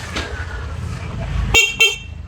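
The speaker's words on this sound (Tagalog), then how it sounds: "kaya titrigger yung horn natin yung stock horn" Two short, loud honks of a stock car horn close by, the second right after the first, over a low engine hum.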